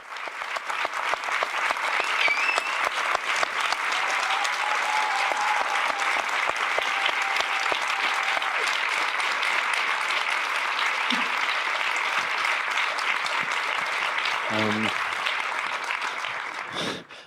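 Warm, sustained applause from a Geneva festival audience, dense and steady for about fifteen seconds before fading out, with a few louder claps near the end.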